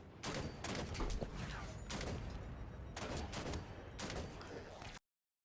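Repeated bursts of gunfire crackle in Halo 5 during a Blue Team fight against grunts, dense volleys coming in regular pulses at steady volume before cutting off abruptly.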